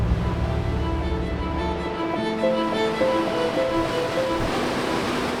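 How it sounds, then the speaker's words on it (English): Europe's biggest waterfall, in the Alps, roars in a steady, dense rush of crashing water, loud and unbroken throughout. "The biggest waterfall in Europe."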